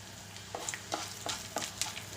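Black pepper, a clove and a small piece of cinnamon tipped into a hot pan for tomato chutney, a soft sizzle with several light scrapes and taps of stirring at a steady pace.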